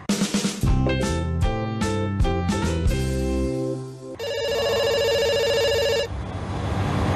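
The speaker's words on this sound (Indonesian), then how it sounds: "Ada suara telepon." A telephone bell rings in a bright, repeated trill, starting after a busy musical intro and holding steady for a couple of seconds before music resumes.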